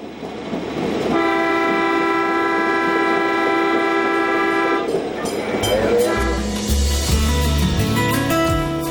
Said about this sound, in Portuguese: O apito vai impondo respeito.